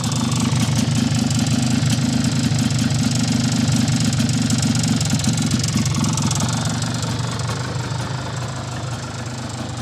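An old sidecar motorcycle engine, unused for 20 to 25 years, runs steadily and loudly throughout, with a rough, knocking idle that never lets up.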